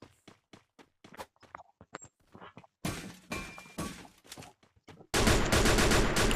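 Gunfire in the mobile battle-royale game Free Fire: sharp single shots and short bursts crack out in quick succession, followed by a dense, loud stretch of rapid automatic fire.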